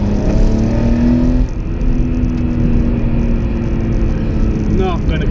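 A budget winter beater car engine revs under throttle, a steady loud drone with a rising pitch near the end, heard from inside over road noise.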